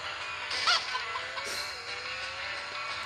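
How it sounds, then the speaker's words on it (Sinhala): A chicken gives a short burst of clucks over a steady background hiss, with one brief louder call early on before the sound settles back. "කුකුල් කවුද බා මේකට කුකුල්ල දැම්මේ?"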